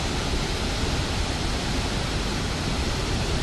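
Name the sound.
Mia Mia Waterfalls waterfall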